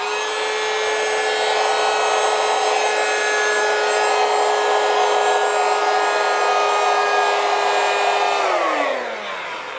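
A Xiaomi handheld vacuum cleaner runs with a steady, loud high-pitched whine and airy rush of suction for nearly ten seconds, then its pitch drops as the motor winds down at the end.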